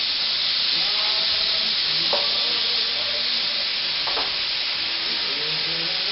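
Juice from a jar of sliced cherry peppers deglazing a hot pan for a pizzicotti arrabbiata sauce, a steady, close sizzle throughout with a couple of faint scraping stirs.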